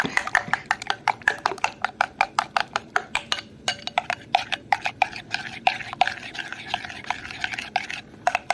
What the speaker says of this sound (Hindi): अब इसको चलाते रहेंगे, आपने साथ साथ मिक्स करते रहना है